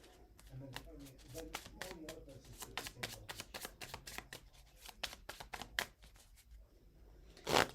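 Tarot cards being shuffled by hand, a rapid series of crisp riffling slaps and flicks in an irregular rhythm, close and fairly quiet, ending in a sharper final burst, with soft talking underneath.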